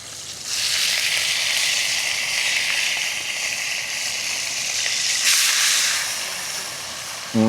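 Hot oil in a pot over an open fire sizzles with a loud, steady hiss, swelling briefly louder partway through and continuing without pause.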